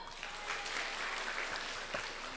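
An audience at a young entrepreneurs' digital-era seminar claps together in a fairly quiet, steady patter of many hands that holds at an even level, heard from a little distance in a hall.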